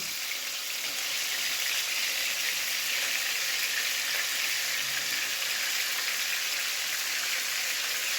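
A tomato and onion paste sautés in a hot pan for chana pulao, giving a steady, even sizzle and hiss that holds at one level for the whole stretch with no voices.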